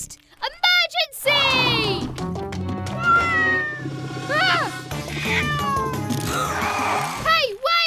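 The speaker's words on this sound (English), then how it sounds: "That kitten must be lost." A cartoon kitten lets out a long run of high, wavering meows, some drawn out and pleading, with a childlike character's voice mixed in close by.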